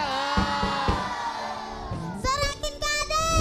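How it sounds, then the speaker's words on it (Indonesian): Children cheer and shout together for a girl named Amel at a lively group event, loud and close. A burst of excited, high whooping voices swells near the end. "Sorakin kade."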